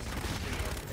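Rapid gunfire from the Call of Duty video game crackles in a dense burst of close shots with no clear gaps, heavy and continuous for a second.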